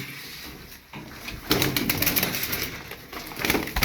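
Çapar breed play pigeons coo and shuffle close by in a loft, soft repeated calls with bursts of rustling and wing movement that swell in the second half.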